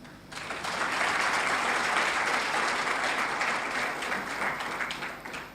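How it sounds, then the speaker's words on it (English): An audience at a university anti-corruption day event gives a big round of applause, loud, continuous clapping from a large crowd that rises quickly and sustains evenly before gradually fading. "give a big round of applause"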